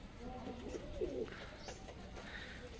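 Racing pigeons at a pigeon farm coo softly in low, rolling bursts, faint and close with a quiet background hum and no talk.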